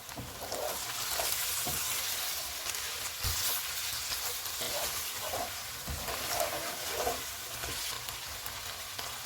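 Steady loud sizzling of 500 grams of mutton frying on full heat in a hot pan, with occasional soft scraping and stirring clatter throughout.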